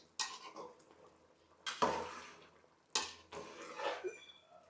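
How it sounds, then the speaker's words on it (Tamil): A metal lid is lifted off a pot of village-style mutton kozhambu and the curry is stirred, giving sharp clanks of metal on metal followed by scraping stirring, close up with no talking. "தட்டை எடுத்து ஒரு கிண்டு விடுவோம்"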